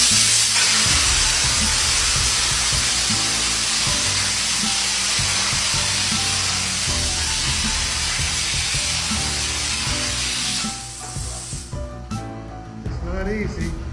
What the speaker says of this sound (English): Well, we have been spraying all day.